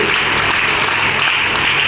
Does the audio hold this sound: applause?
yes